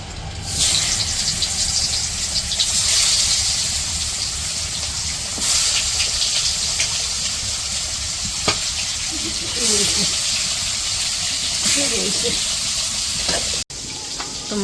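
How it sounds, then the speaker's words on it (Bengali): Fish sizzle and spit in hot oil in a wok over a village cooking fire, a steady loud frying hiss throughout with occasional stirring clatters and brief crackles. "এখন মাছগুলো ভেজে নিব"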